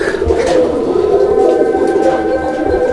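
A male domestic pigeon gives a low, throaty cooing call, repeated in soft rolling phrases under a steady background hum, close and moderately loud.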